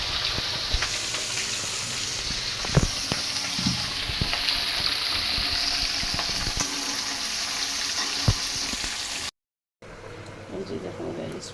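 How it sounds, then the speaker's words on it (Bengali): Fish frying in a pan with steady sizzling and occasional stirring or clinks, fairly loud and continuous, briefly cutting out near the end before resuming more faintly. "এখন আমি এটা মাছ ভাজবো"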